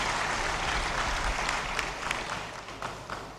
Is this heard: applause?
yes